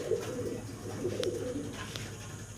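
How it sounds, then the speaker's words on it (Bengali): Fancy colored golla pigeons, a pair, cooing softly with low, rolling throaty calls that repeat through the moment, close by over a steady background hum. "চকচকা জকজকা একটা জোড়া দেখাচ্ছি আপনাদেরকে, কালারিং গোল্লা কবুতর,"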